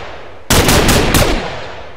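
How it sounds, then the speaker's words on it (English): Rapid M16 gunfire fired from the hip in a Minecraft guns mod, a loud sustained burst lasting about a second before fading into a lingering echo, with no talking. "Okay, we're gonna try shooting from the hip."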